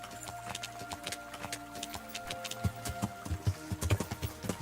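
Horse hooves clip-clopping in the video game Kingdom Come: Deliverance, a faint, irregular run of soft thuds under a low steady hum, no talk.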